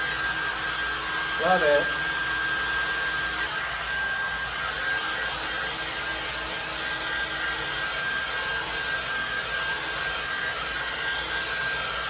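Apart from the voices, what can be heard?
hairdryer drying paint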